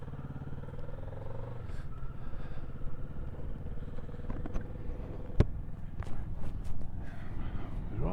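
Kawasaki Ninja 650 parallel-twin motorcycle on an open road, engine note rising and falling steadily as it rides along, with wind rush and a few sharp transient knocks, fairly close and continuous.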